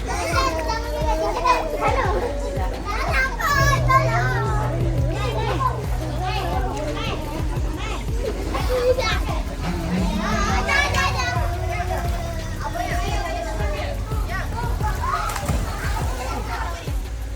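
Children play happily at a family day at Villa D'Kuala in Melaka, a steady lively din of kids shouting, laughing and chattering with occasional water sloshing.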